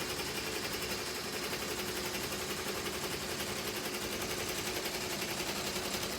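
A BAI 15-needle embroidery machine stitches a full front design onto a T-shirt, making a dense, rapid, steady mechanical chatter that runs evenly and loudly throughout, close by, with no talk.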